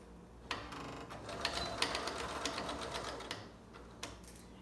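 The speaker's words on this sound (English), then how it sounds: "You can sew right here on the edge of your presser foot." A sewing machine stitches a handmade fabric mask along the edge of the presser foot, giving a steady, fairly quiet mechanical whir with light rhythmic ticking throughout.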